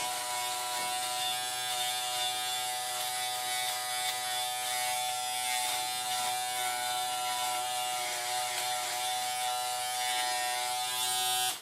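A Remington F3 foil electric shaver runs with a steady close buzzing drone, its tone shifting slightly and a faint rattle riding on top as it moves.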